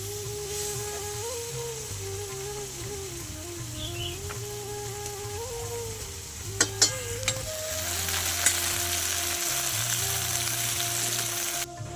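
Okra (bhindi) frying in a pan, a steady soft sizzle with a few sharp clinks of stirring partway through, while a faint background hum and distant bird calls carry on, no voices heard.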